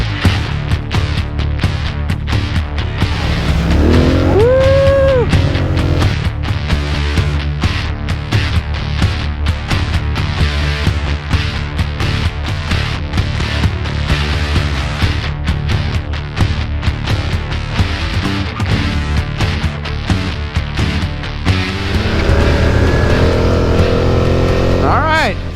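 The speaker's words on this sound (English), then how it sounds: "First real ATV trail ride on my new Polaris XP 1000S" A Polaris Sportsman XP 1000 S ATV roars along a trail ride, its engine loud and steady with rising revs, while a voice talks over it.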